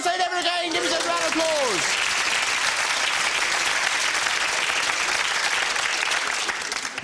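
A game show studio audience breaks into loud, sustained applause, dense and even throughout, briefly overlapped at the start by a host's voice.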